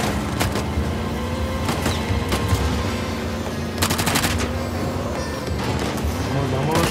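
Uncharted: The Lost Legacy gunfire rattles in repeated automatic bursts and single shots during a vehicle chase toward a train, loud and close over engine rumble, with voices talking throughout.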